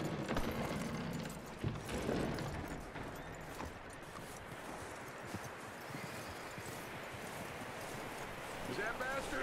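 Horse hooves clip-clop at a steady walking rhythm in the Red Dead Redemption 2 video game, moderately loud and close, with a soft murmur of game ambience underneath throughout.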